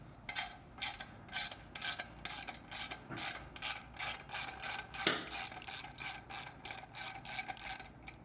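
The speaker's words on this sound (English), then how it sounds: "You get your 10mm socket and loosen up that clamp." A 10mm socket ratchet loosens the exhaust clamp on a Triumph Street motorcycle, its pawl clicking in quick, regular back-and-forth bursts close to the mic, about twenty strokes in steady rhythm, with no talking.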